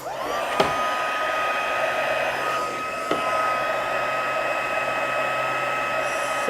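Heat tool blowing hot air to melt embossing powder on a Christmas card, a steady whirring fan whine with a high tone held throughout and a couple of sharp clicks, close and fairly loud, no talking.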